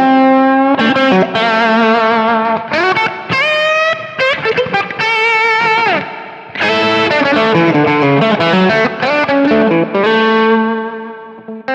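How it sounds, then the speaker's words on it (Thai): A Fender Stratocaster electric guitar played loud with a distorted overdrive tone gives bent notes, chords and sustained lead lines close up, with short pauses between phrases. "คราวนี้ลองฟังเสียงแตกที่บิดไหม"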